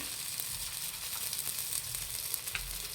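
Ragi rotti frying in a little oil on a pan, giving a soft, steady sizzle throughout, close but low in level, with no talking.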